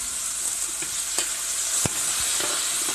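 Tilapia afritada with soy sauce stirred in a frying pan: a constant loud sizzle broken by scattered utensil scrapes and one sharp clack.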